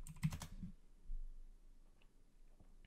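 Brief burst of typing on a computer keyboard, a quick cluster of keystrokes at the start that fades into quiet room tone with a few faint clicks.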